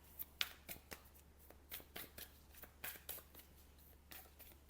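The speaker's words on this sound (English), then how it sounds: "I should shuffle on camera so that you know." Tarot cards are shuffled by hand, making quiet, crisp papery slaps and riffles in an irregular, steady rhythm over a low background hum, with no voices.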